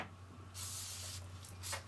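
Aerosol cleaner spraying onto the splines of a Ford 9-inch axle shaft, two long close hissing bursts followed by a shorter spurt, loud and steady against a low background hum.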